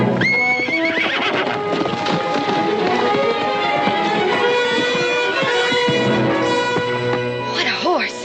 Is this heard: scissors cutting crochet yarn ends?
no